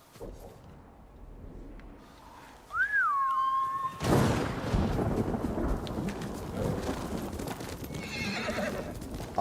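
A horse in the video game Ghost of Tsushima Director's Cut whinnies once in a short rising-falling call, followed by a loud rumbling wash of noise and clopping hooves.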